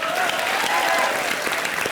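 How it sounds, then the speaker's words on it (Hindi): Studio audience at a televised stand-up comedy show gives a burst of hearty, continuous applause, with a voice faintly audible beneath the clapping. "सना खान के लिए जोरदार तालियां।"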